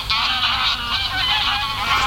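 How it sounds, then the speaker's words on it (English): A dense chorus of many geese honking all at once, loud and continuous, as if a big flock is crowded close by. "these geese. Loads of them."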